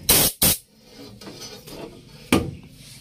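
WD-40 sprayed into a sticky ignition switch, two short sharp hissing bursts close up, then faint fiddling and a third brief spray blast.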